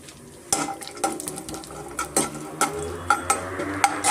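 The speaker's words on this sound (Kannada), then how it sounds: "ಇವಾಗ ಗೋಡಂಬಿ ಮತ್ತು ಬಾದಾಮಿಯನ್ನು ನಾವು ಹುರ್ಕೊಬೇಕಾಗುತ್ತೆ ದ್ರಾಕ್ಷಿ ಎಲ್ಲ ಮೀಡಿಯಮ್ ಫ್ಲೇಮಲ್ಲಿ ಸ್ವಲ್ಪ ನಾವು ಹುರ್ಕೊಂಬಿಡೋಣ ತುಪ್ಪದಲ್ಲಿ" Cashews, almonds and raisins frying in ghee over a medium flame for a wheat ladoo, with a steady sizzle and repeated stirring scrapes and clinks of a spoon against the pan, close and clear.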